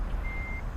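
A single steady electronic reversing beep sounds from a truck backing a trailer in American Truck Simulator, over a low, constant engine rumble.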